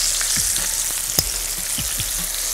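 Onions fry in a hot pan with a steady, loud, close sizzle and hiss, a few soft stirring scrapes and one sharp clack partway through.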